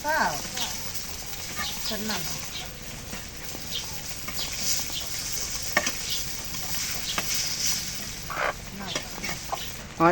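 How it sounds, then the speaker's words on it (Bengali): Silver carp fish sizzles steadily in an iron frying pan on a home stove while a utensil stirs and scrapes at it, with people talking close by throughout. "ভাজা হয়েছে এখন মাছটা নামাই"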